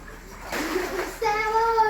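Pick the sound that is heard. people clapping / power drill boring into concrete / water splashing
water splashing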